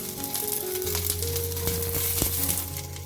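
Onion and capsicum fry in a pan while preparing baby corn chilli, giving a steady close sizzle with occasional crackles and a few light clinks from stirring.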